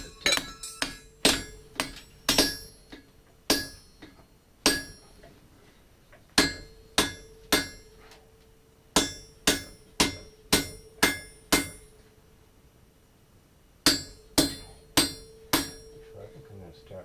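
A hammer strikes hot steel at a forge in sharp metallic blows, some in quick runs and others spaced with pauses, each ringing briefly before the next, loud and close.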